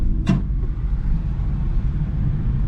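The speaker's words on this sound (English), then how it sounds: "These are all the autocross cars." Autocross cars idle and rumble at a race track meet, a steady low engine drone close by with one sharp brief clatter near the start.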